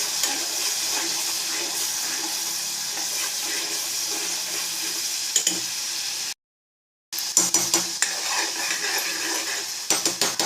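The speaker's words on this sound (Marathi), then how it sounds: "दहा 15 मिनिटं चांगला भाजूस तर हलवून घ्यायचं." Masala roasts in a pan for chole, making a steady dry sizzle with spoon scrapes and occasional clinks against the pan, broken by a short silent gap.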